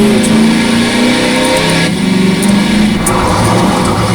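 A car engine in Garry's Mod revs hard and steadily as the car drifts, a loud, continuous droning whine with brief dips, with no talking over it.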